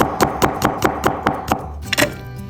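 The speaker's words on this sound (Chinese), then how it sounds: "再切点蒜片" A kitchen knife slices garlic cloves into thin chips on a cutting board, about ten quick, even taps against the board in a steady rhythm, close up and with no talk.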